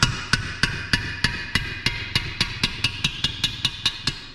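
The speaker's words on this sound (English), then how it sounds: "And I'm using a brass hammer." A brass hammer taps lightly on a part inside a late-1938 early Ford transmission case during a rebuild. About fourteen bright metallic taps ring out close up in a quick, steady rhythm, with no voices.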